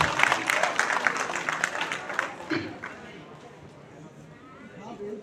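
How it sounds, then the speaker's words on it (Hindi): An audience at an anniversary stage event claps loudly for a couple of seconds, the dense applause then thinning and fading out into quieter room noise with scattered voices. "जोर से तालियां बजाइए, क्या कंजूसी"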